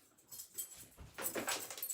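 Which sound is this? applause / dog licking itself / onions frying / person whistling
dog licking itself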